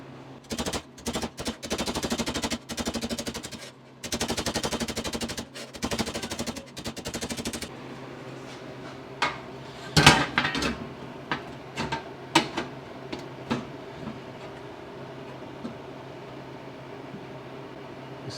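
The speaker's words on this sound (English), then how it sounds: "here we're gonna start bending this flange in, so this can dip in further" Metal wheel well flange on a 1966 Triumph GT6 being bent with a rapid power tool: loud bursts of fast hammering chatter in the first half, then scattered sharp knocks and clanks fading into quieter shop noise.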